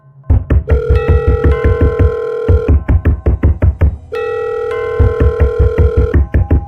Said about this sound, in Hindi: उसके पॉकेट में रखा फ़ोन अचानक बजने लगा।